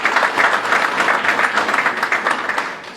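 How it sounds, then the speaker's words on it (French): An audience at an official opening ceremony applauds the outgoing minister, a steady, dense wash of many hands clapping that holds evenly for the whole stretch, fairly loud and close, with no talk over it. "ici présente, applaudissons-la."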